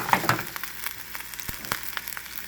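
Pre-cooked shrimp fry in hot oil in a pan for taco filling, giving a soft, steady sizzle with faint crackles and a few light clicks, with no voices.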